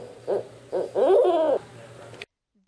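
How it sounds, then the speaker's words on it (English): A barred owl hoots in a short rhythmic series in a Florida swamp, the last call drawn out and wavering, loud and close, then silence. "I love the sounds owls make."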